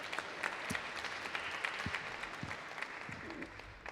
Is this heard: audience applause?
yes